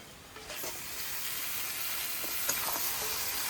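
Chicken pieces dropped into hot spices in a wok for curry, with a loud, steady hiss of frying that swells up after the first half second and holds at close range.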